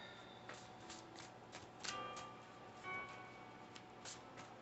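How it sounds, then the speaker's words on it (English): Cards are being shuffled with soft, repeated riffling ticks in a steady rhythm. The sound is faint and close, heard alone, with no talking over it. "I think I'm shuffling this one too much"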